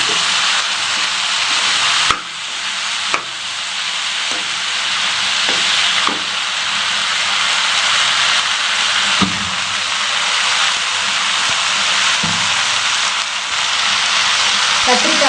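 Cut brinjal fries in oil in a pan, giving a loud, steady sizzling hiss throughout with occasional sharp clicks and taps from stirring. The sound is close and continuous, and a voice can be heard faintly beneath it.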